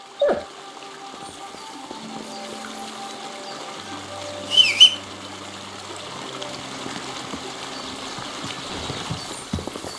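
A dog named Mutt in the video game Kingdom Come Deliverance II, with soft whimpers and a short yelp over a trickling stream and quiet ambient music tones.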